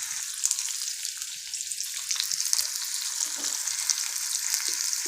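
Two curry leaves fry in hot oil for a prawn gravy, giving a steady, bright sizzling hiss with faint crackles and occasional stirring, close by and alone.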